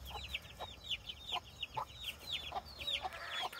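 Meat chickens in a cage cluck and chatter in quick repeated calls, with soft thumps as they jump at the cage, heard close against a faint background hum.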